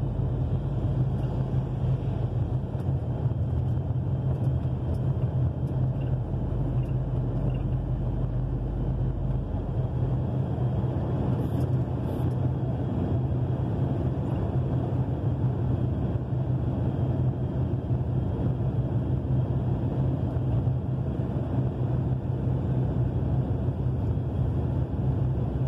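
Trucks pass by a weigh station on Brazil's SP-330 near Ituverava, a steady low roar of heavy traffic with wind noise, continuous and moderately distant.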